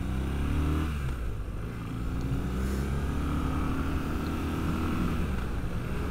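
A motorcycle engine pulls steadily under acceleration during a ride, a smooth droning tone with rising pitch and some vibration, fairly quiet with no talking.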